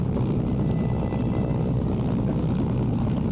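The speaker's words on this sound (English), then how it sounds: "And they repaired my helicopter." Helicopter rotor drone from the video game Mercenaries: Playground of Destruction, a steady, dense low-frequency thrum that holds constant and loud throughout with no talk over it.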